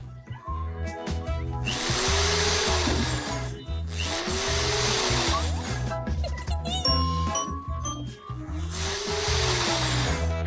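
A power drill drives screws into a bed frame, whirring in repeated loud runs with pitch rising and falling, over a steady background music bed and light clinking.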